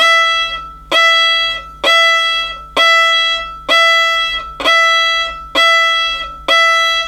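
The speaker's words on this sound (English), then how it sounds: "So a martelé stroke would sound something like this." Eight separate violin martelé strokes, each with a sharp accented bite at the start and then a clean release. They come in an even, steady rhythm, played up close and heard alone, with a short gap after each note.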